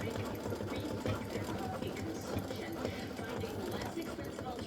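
An embroidery machine stitches a Mrs Claus fill design, a steady close mechanical whirr with a rapid rhythmic needle chatter running continuously and evenly throughout.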